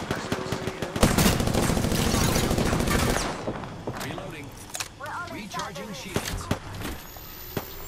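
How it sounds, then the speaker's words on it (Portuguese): Rapid automatic gunfire in Apex Legends, a dense sustained burst for about three seconds followed by scattered single shots and in-game effects, with a voice talking over the action. "Estão atirando em mim pra caramba."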